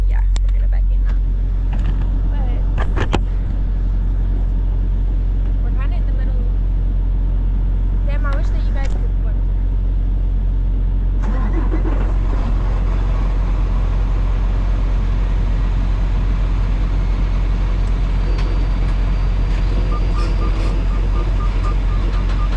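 A semi truck idles with a steady low engine rumble while it gets ready to back into a loading dock. The drone carries on the whole time, and a person talks over it.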